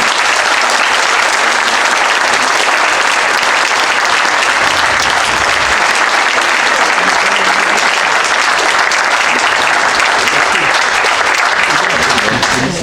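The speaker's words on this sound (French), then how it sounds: "Il faut applaudir très fort." Loud, sustained applause fills the room at a Levens town council meeting, dense and unbroken clapping from a large gathering with some voices mixed in.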